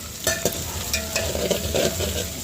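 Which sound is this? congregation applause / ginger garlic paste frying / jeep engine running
ginger garlic paste frying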